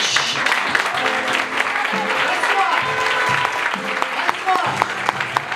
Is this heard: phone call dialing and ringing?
no